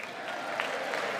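Crowd applause at the State of the Union address, a steady wash of clapping from a large audience, continuous and moderately loud throughout the brief moment.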